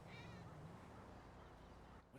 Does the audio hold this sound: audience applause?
no